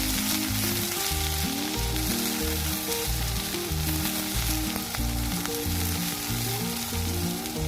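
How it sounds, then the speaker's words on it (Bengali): Onion fries with soaked cashews, raisins and melon seeds in a hot pan, a loud, dense and unbroken sizzle with faint stirring underneath and nobody speaking. "এবার সব কিছু হালকা করে ভেজে নেব"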